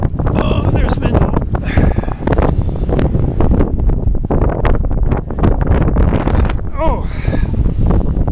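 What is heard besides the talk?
strong wind blowing into the microphone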